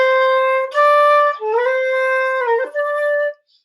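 A flute slurs from D down to C with the fingers lifting one at a time, so a steady tone breaks into wobbly, uneven in-between pitches before settling. Solo and close, with no talking.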